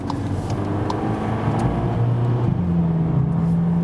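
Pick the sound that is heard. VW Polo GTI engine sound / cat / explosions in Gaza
VW Polo GTI engine sound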